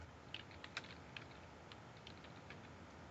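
Faint, close keystrokes tap on a computer keyboard in a short irregular burst over a low steady hiss, with no talking.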